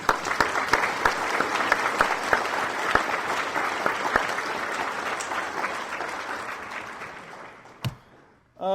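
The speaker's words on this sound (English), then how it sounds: "So a big round of applause for everybody that beta tested the game." A banquet audience at a gaming convention breaks into loud, sustained applause with sharp individual claps up close, gradually fading out before a voice resumes at the end.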